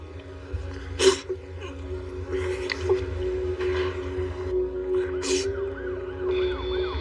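An ambulance siren wails through a sustained tone with rising and falling sweeps, while brief sharp bursts and background noise punctuate it.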